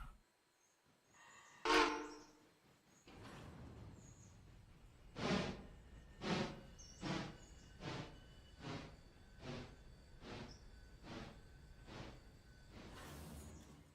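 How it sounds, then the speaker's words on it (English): A passenger train approaches in the Railroader railway game, starting with a sharp burst then settling into a steady rhythmic series of clacking wheel beats, growing louder toward the end with a rising rush. "I can hear a passenger train coming."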